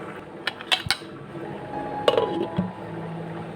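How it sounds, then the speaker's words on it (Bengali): A metal lid is set onto a cooking pot, giving a few bright clinks and a clatter, then a softer knock, over a quiet kitchen background. "চলো ঢাকা চাপা দিয়ে দিই"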